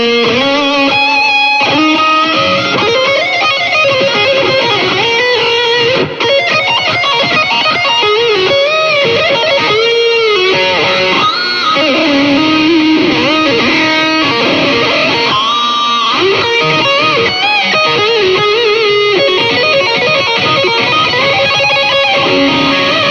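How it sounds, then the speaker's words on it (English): Isolated distorted electric guitar solo track from a song, with fast continuous lead lines, bends and squeals, loud and unbroken, and no voices. "This is the isolated guitar track for the complete solo."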